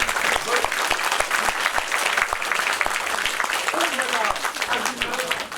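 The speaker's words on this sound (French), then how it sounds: "entendez ces applaudissements, Sophie" Steady applause from an audience at the inauguration of a health centre, dense continuous clapping filling the room, with voices faintly mixed in beneath.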